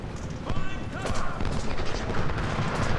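Game gunfire from an American Civil War battle at Philippi in Ultimate General: Civil War: dense, continuous musket and artillery volleys crackling and booming over a rumbling battlefield bed, with rapid overlapping shots throughout.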